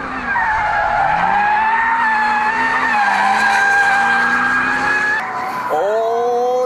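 A drift car slides sideways on a test track with its tires squealing in a loud, sustained, wavering screech over engine noise, the pitch shifting briefly near the end.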